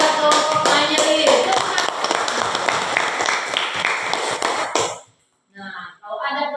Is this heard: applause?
yes